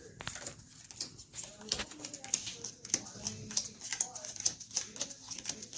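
Pokémon TCG trading cards being shuffled by hand at a table, a quick run of crisp flicking and riffling clicks in uneven bursts, with a voice faintly audible underneath.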